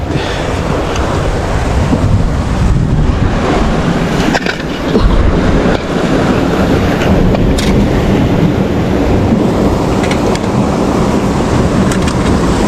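Strong wind roars steadily across a windy hilltop, buffeting loudly and continuously with rumbling gusts and no voices.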